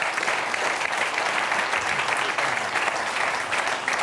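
A studio audience on a French television talk show breaks into sustained applause, a dense, even wash of clapping that holds steady and fairly loud throughout, with no speech over it.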